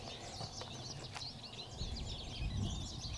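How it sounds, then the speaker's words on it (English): Birds singing at a nature center, with many faint, overlapping high chirps and trills spread across a soft, noisy outdoor background. "Birds sing for mating and for territory."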